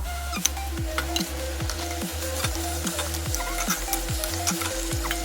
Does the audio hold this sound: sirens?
no